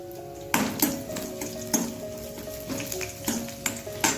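Garlic frying in hot oil for a peanut chutney, a continuous soft sizzle with repeated stirring scrapes and clinks of a spoon against the pan, close by.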